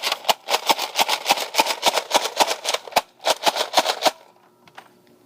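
A Nerf Rival Artemis blaster slam-fires in a rapid string of sharp mechanical cracks, about twenty shots in quick rhythm lasting roughly four seconds, then stops into near silence.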